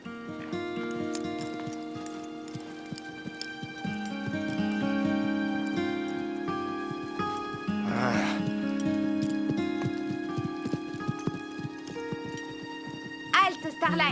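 Two trained show horses walk forward on command, hooves clip-clopping steadily behind a music score and a man's spoken commands in French, with a brief whinny near the end.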